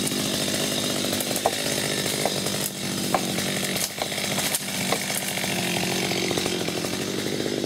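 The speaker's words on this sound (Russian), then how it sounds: "Что на пути, все спиливай." A chainsaw cuts through whatever is blocking its path on a road repair job, a loud buzzing whine with brief rising revs and bites as the chain works, with no voices.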